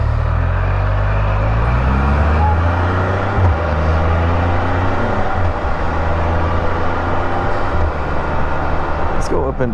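A car cruising at speed and shifting up into top gear, a loud, steady interior drone of engine and road noise with a slight shift in pitch partway through.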